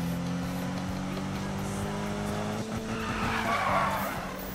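A car drifting in the Need for Speed video game: a steady engine drone under long tire skids, with the squeal swelling louder toward the end.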